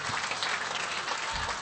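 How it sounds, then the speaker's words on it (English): An audience at an AFL women's medal night applauds, a short, dense wash of clapping that sounds steady and fairly distant. "give her a round of applause for that as well"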